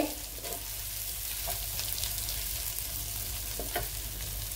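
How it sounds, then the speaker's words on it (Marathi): Masala brinjal stir-fried in a pan, a steady near sizzle of frying with a few distinct stirring scrapes, no voices. "आता ह्याला 1-2 मिनिटं परतून घेते"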